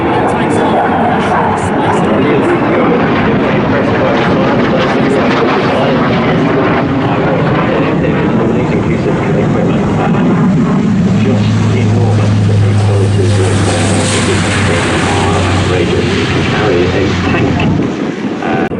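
A large Hercules transport aircraft at an airshow gives off a loud, steady, continuous engine roar that swells toward the middle, dense and close throughout, with spoken commentary partly buried beneath it.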